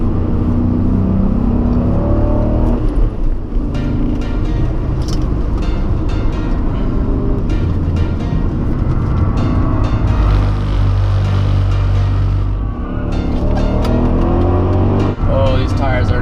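A supercharged BMW M5 accelerating hard on a race track, its loud engine note rising and falling through gear changes while a driver talks over it.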